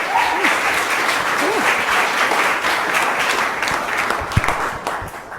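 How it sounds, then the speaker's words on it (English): Lecture-hall audience gives steady applause as a speaker is introduced at a Wilderness Society talk, a dense continuous patter of many hands that eases slightly toward the end, with a brief voice or two faintly beneath. "rousing applause already, I appreciate that"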